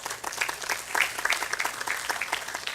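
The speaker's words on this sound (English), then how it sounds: "you deserve a round of applause" Audience at a secondary schools football league prize distribution ceremony gives a round of applause: dense, steady clapping from many hands at moderate volume, filling the moment without any voice over it.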